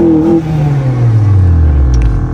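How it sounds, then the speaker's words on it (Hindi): Honda Accord CL9 Type S, an automatic, revving with exhaust note, a loud close engine tone dropping in pitch as the revs fall away. "एग्जॉस्ट की आवाज़ जब हम इसका थोड़ा सा रन करें तो एग्जॉस्ट की थोड़ी सी आवाज़ आए"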